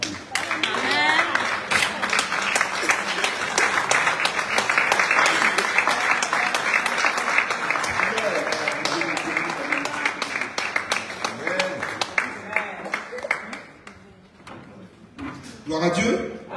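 A church congregation stands and applauds loudly, dense sustained clapping filling the room for over ten seconds before thinning out and trailing off near the end.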